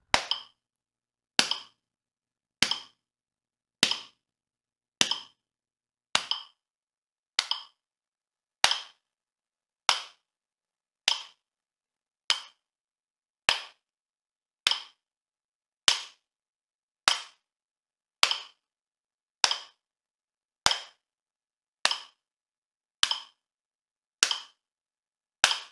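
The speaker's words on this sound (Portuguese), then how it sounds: "Vou tocar batendo palma o tempo todo" Hands clap a steady rhythm for a music exercise, about twenty sharp, evenly spaced claps standing alone with silence between them and no talking.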